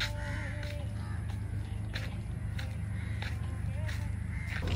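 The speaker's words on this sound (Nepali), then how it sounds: "कति धेरै काग हो यहाँ त" Many crows caw on a street in Malaysia, their calls scattered over a constant low hum and the background noise of walking outdoors.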